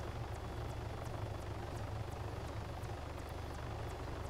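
Helicopter in the video game Arma 3, a loud steady rotor drone with rapid rhythmic blade chop throughout, no talking.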